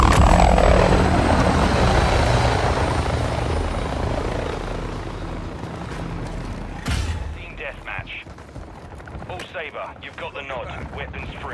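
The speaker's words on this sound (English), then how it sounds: "Oh, the helicopter starts." A helicopter in Modern Warfare II (2022) gameplay roars loudly at first, then its rotor whine fades into a lighter rhythmic chop, with a sharp thump midway and a person talking over it.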